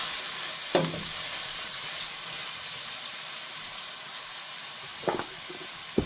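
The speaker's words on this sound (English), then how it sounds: "And just give that a stir." Onions frying in a pan, a steady close sizzle running throughout, with a couple of sharper utensil scrapes and knocks as they are stirred.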